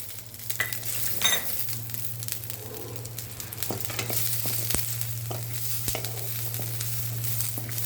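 Steady sizzling of garlic and cumin frying in a pan for curry leaf chutney, with a constant low hum and occasional light scrapes of a utensil stirring.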